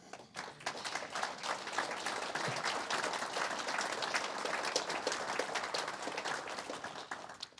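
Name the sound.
audience applause at a panel event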